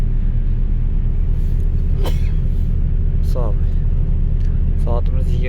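A parked vehicle, loaded with grapes on a long haul, sits with its engine left running at night; a steady low idling rumble continues throughout, with a few brief sharp clicks and squeaks over it.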